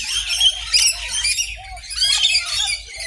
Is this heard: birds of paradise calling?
yes